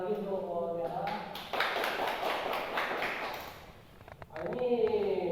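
Classroom applause for a student: a burst of many hands clapping together for a couple of seconds, moderately close, with talking before and after.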